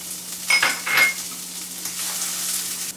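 Green onions dropped into hot canola oil set off a steady sizzle, with a couple of brief louder bursts and light stirring or pan clinks early on, then a continuous close frying hiss.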